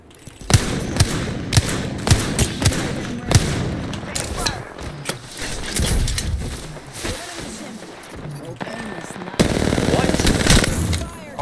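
Rapid video game gunfire, including blasts from a Peacekeeper shotgun, booms in heavy bursts and thuds with a player talking over the loud, dense shooting.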